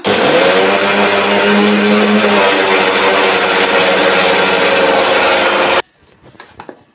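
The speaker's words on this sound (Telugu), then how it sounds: "కొబ్బరి, పచ్చిమిర్చి, ఉల్లిగడ్డ, కొత్తిమీరకు మిక్సీ పడుతున్నా." Mixer grinder (mixie) grinding coconut, green chilies, onion and coriander into a paste, a loud continuous motor whir and churning rattle for several seconds before switching off into quiet handling noises.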